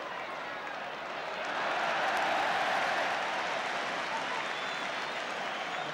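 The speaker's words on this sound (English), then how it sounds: "The crowd now willing to cheer at every move." Football crowd at a 1973 Manchester United versus Wolves match swelling into a broad roar of cheering, rising midway and holding, distant and diffuse across the stadium.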